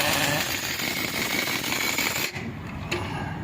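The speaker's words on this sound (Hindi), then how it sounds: "मशीन से टाइट कर रहा है। देख चीजें टाइट कर रहे हैं अभी।" A machine tightens the nuts on a new tyre at a tyre shop in Kohima, giving a steady loud whirring, grinding drone that runs continuously, briefly dips, then carries on.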